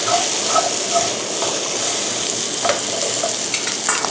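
Vegetable stems stir-fry in a hot pan with a loud, steady sizzle and crackle, broken by a few scraping stirs, close up and with no talking.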